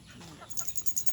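A hungry pet duck, just off its nest after brooding, gives a quick run of faint, rapid, repeated calls close by.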